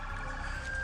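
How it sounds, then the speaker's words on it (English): An ambulance siren wails during a roadside emergency stop, a steady tonal whine at a distance with no voices over it. "Do you hear them? Ambulance is coming."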